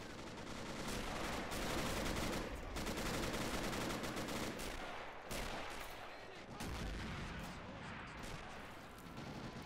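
MG42 machine gun fire in the Men of War strategy game during a coastal trench defense against an amphibious landing, continuous dense rattling bursts with layered distant gunfire and explosions, loud and sustained.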